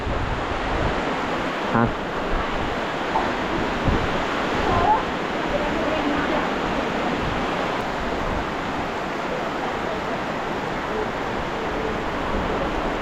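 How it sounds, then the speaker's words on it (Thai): Heavy rain with rainwater flowing in a rural Thai farm setting, a dense steady roar of downpour and running water throughout, with a brief voice. "ป่าบ่ได้นะน้ำฝนมันไหลมา"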